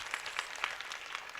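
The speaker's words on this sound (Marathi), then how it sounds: "वाजवा टाळ्या त्यांच्यासाठी महाराज" Audience clapping at a Marathi kirtan during a Harinam Saptah gathering, a steady, fairly soft patter of many hands with a few louder bursts, no talking over it.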